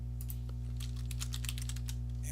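Steady typing on a computer keyboard: a quick, uneven run of close key clicks over a constant low electrical hum, with no voices.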